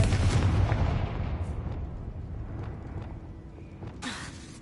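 A Confringo fire blast spell explodes in a video game, a loud broadband burst at the start that rumbles and decays over several seconds, with a fresh bright crackle near the end.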